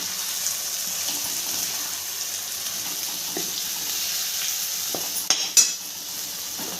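A ground masala of coconut, onion, coriander and spices is stirred into a frying brinjal curry, making a soft, steady sizzle with a few sharp spoon clinks against the pan near the end.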